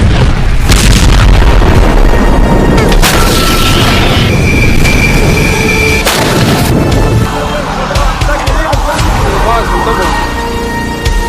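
Explosions from Israeli strikes on Hezbollah in Lebanon: loud, heavy booms and blasts rumbling one after another, with crackling bursts and a lingering low roar as the noise gradually thins toward the end.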